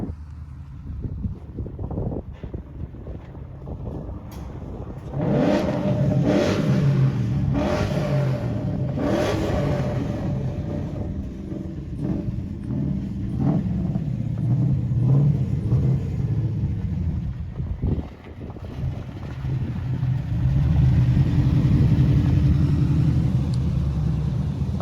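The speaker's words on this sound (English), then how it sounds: "Sounded like you were shifting. Yeah, went through all 6 of them" A car engine pulls through all six gears while driving, its rumble rising and dropping with each shift, fairly faint and muffled under steady wind noise across the whole stretch, with no talk.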